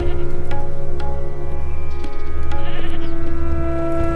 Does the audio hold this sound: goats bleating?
yes